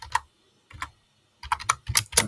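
Bursts of quick clicking keystrokes on a computer keyboard, close and clear, with short pauses between the runs and no voices.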